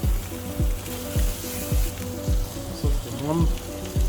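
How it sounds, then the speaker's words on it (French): Meat frying in butter in a pan in a restaurant kitchen, a steady close sizzle broken by sharp scraping strokes at a regular pulse, about twice a second, as the meat is moved around. "J'ai mis un peu de beurre juste pour décoller la poêle avec la viande"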